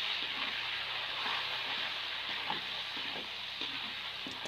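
Red chilies sautéing in a pan as the base for Manado-style woku fish, a steady close sizzle and fry crackle with faint stirring clicks, no voices.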